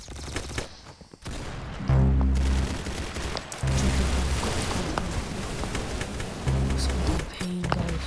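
Gunfire in the video game Arsenal, with rapid bursts of shots in several loud stretches separated by brief gaps, dense and continuous over about eight seconds.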